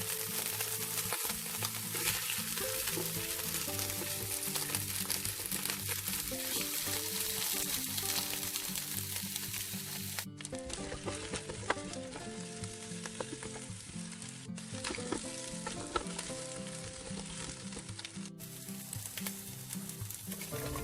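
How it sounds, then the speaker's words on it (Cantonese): Chicken and pork bones with ginger slices sizzle and crackle steadily in hot oil in a wok, a continuous close frying hiss with clinks of stirring and no voices. "落我哋嘅雞骨同埋豬骨爆香。"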